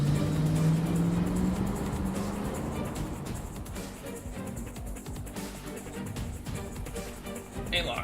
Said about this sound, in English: The engine raised a high-pitched scream